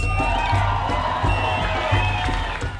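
A crowd in a city square applauds and cheers at a community celebration, with loud sustained clapping, scattered whoops, and a low pulsing background beat, close and continuous.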